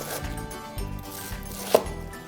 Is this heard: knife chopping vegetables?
yes